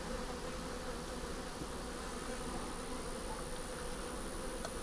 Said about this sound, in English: Some of the bees that were hanging out actually moved.